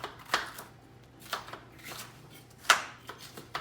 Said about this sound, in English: Just get it chopped.